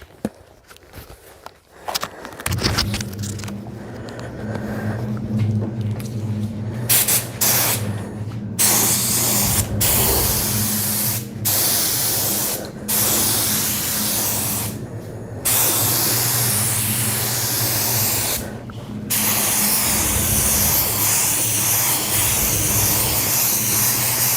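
Clear coat finish sprayed onto cabinets with a spray gun: a loud, continuous, close hiss running for over twenty seconds, with a low steady hum underneath and a few brief pauses, no talking.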